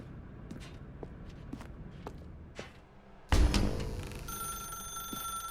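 A telephone in The Stanley Parable rings out loudly and suddenly after soft footsteps shuffle through a dark room, its sustained bright ring lingering to the end.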